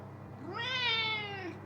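A house cat gives one clear, drawn-out meow up close, rising and then falling in pitch for about a second against a quiet indoor background.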